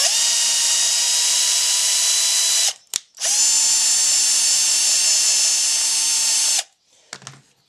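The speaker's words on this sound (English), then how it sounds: "you're tapping holes with a battery drill" A cordless drill tapping holes whines at high speed in two long runs separated by a brief pause, followed by a few faint clicks.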